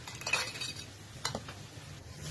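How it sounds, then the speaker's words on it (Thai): Crisp fried French fries are tipped onto a plate with a few light clinks and rustling scrapes, quiet and close, with faint kitchen background noise. "เฟ้นไฟทอดกรอบของเราเตรียมใส่จาน"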